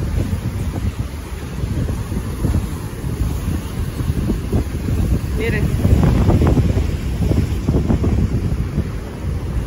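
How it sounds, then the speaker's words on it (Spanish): Steady wind buffets the microphone over the low rush of ocean surf, with a single word spoken near the start. "Pueden oír el sonido del océano, el aire."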